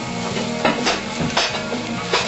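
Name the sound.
sauteing tomato and cheese mixture in a pan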